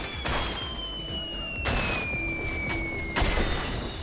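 A Fortnite rocket ram launching a player into the sky and crashing down like a bomb: a descending whistling tone that slides lower over several seconds, broken by heavy booming impacts.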